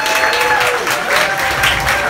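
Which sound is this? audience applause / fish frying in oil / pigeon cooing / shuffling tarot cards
audience applause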